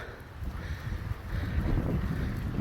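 Steady wind roars and buffets across exposed rock on a mountain ridge, a loud, close rushing that swells and gusts with no other sounds.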